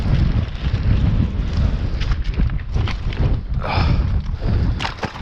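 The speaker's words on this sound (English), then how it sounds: "Head on into the wind." Strong wind blows on a rocky coast beside rock pools during abalone foraging: a loud, continuous rushing roar that buffets the microphone throughout, with gusty surges and no voices.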